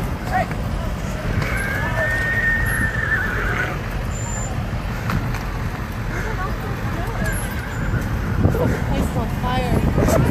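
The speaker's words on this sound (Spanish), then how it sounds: "Hay que soltar los caballos" Horses whinny amid a wildfire, the Lilac fire near Oceanside, with a sustained neigh against a constant roar of wind and burning, a distant siren, and people talking over it.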